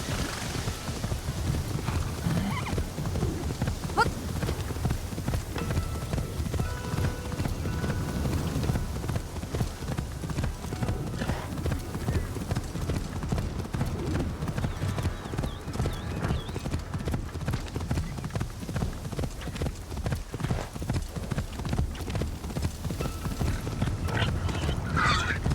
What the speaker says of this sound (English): riding a horse through the main street of a town